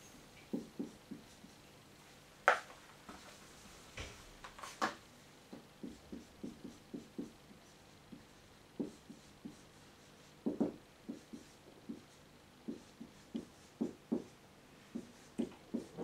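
Chalk taps and scratches on a board as a convex-sets proof is written during a lecture, a quiet irregular series of short strokes in a hushed room with no voices.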